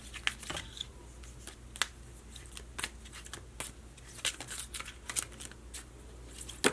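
Tarot cards being shuffled and drawn by hand, a steady patter of close, crisp riffles and slaps, some sharper flicks standing out, with no talking.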